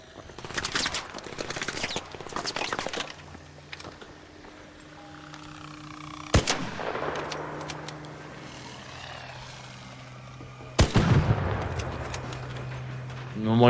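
Sniper rifle fire in the video game ARC Raiders gives two sharp, loud cracks several seconds apart over a steady, droning, mechanical background hum with scattered rattling noise.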